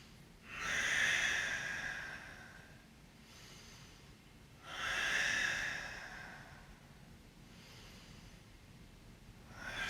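Deep yoga breaths during a strong vinyasa class, two long audible exhalations about four seconds apart, each a soft airy rush fading into quiet, close and fairly faint with no talking.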